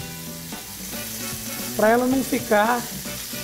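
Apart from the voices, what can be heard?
pork loin frying in olive oil in a pan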